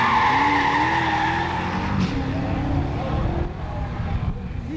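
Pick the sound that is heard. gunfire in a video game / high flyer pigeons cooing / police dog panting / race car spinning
race car spinning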